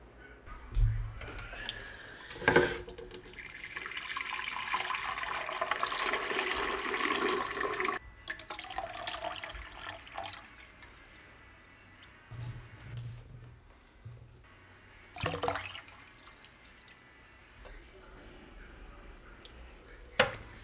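Water pours and splashes into a Vitamix blender container, a steady rushing fill with a few clunks and knocks, then quieter sloshing and drips.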